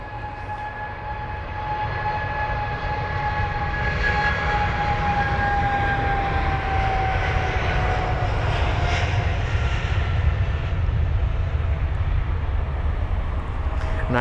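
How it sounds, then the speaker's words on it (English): A British Airways Boeing 777-200ER departs London Heathrow for Doha, its engines building from a moderate rumble into a sustained roar with a faint whining tone, alone at mid distance. "BA123 off to Doha. The Boeing 777-200ER with the reg Golf Victor India Kilo"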